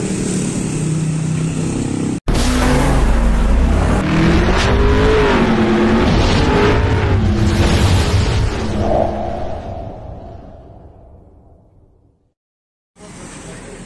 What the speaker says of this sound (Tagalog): At saka po umuhuni itong motor na to.